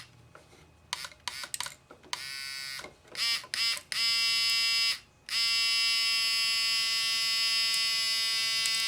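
A Dandy 2-speed electric powder trickler dispensing IMR 7828 powder whines in short on-off bursts, then settles into a loud, steady high-speed buzzing hum that runs close and unbroken to the end.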